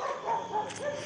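A female dog barks and yips in short, fairly close bursts, with a whimpering edge, while someone speaks over it.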